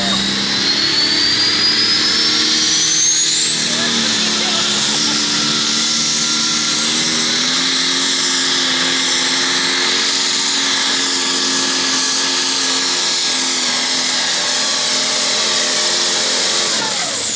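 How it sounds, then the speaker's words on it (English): International 1456 light pro stock pulling tractor with a high turbo spool, competing at Leaf River, Illinois: a loud, sustained engine roar topped by a whining turbo whistle that rises steeply early, then holds high across the pass. "as you heard the high spool of that turbo"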